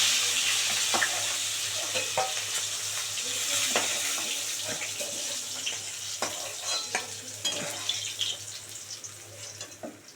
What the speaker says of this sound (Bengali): মাছ ভাজা হয়ে গেছে দু পিস ভালো করে এবার তুলে নেব